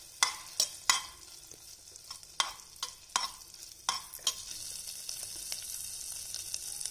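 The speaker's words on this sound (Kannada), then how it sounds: "ಇವಾಗ ನೋಡಿ ಶುಂಠಿ ಬೆಳ್ಳುಳ್ಳಿ ಹಾಕ್ತಾ ಇದ್ದೀನಿ." Ginger and garlic fry in butter and oil in a pan with a soft background sizzle, broken by a series of sharp scraping stirs that come in irregular bursts, with no speech.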